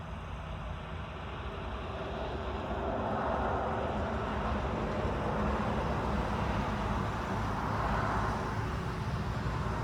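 A Honda CR-V 2.2 diesel 4x4 automatic out on a test drive, heard as a steady broadband rumble of engine and road noise that holds evenly throughout, with no one speaking.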